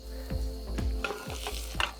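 An extra-large curry meatball fries in a hot cast iron pan, giving a steady sizzle broken by several sharp scraping and stirring knocks as it is pushed around, close and fairly loud, with no talking.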